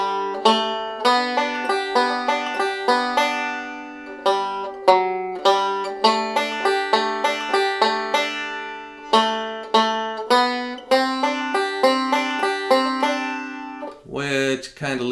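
Banjo plucking a steady forward roll through the melody of Banks of the Ohio, bright rapid picked notes in continuous rhythm, close and clear, with a brief flurry of faster strums at the end.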